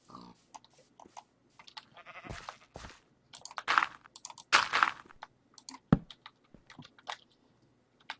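A sheep bleats in a Minecraft-style survival video game, short bleats mixed with crunching, chewing-like game sounds, sparse and close amid quiet gaps.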